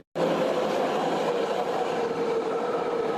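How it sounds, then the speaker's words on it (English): A BART train rolls through Embarcadero station in San Francisco's Bay Area, a steady loud rumble with rail hiss and a faint squeal starting abruptly after a brief silence. "BART trains rolling again after a computer error brought the entire system to a halt this morning"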